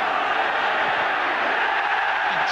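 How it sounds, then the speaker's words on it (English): Wrexham supporters at a European Cup Winners' Cup match roar for a tackle, a loud, steady stadium crowd cheer filling the whole moment without break. "And Joey Jones earns the biggest cheer of the night from the Wrexham supporters for that tackle"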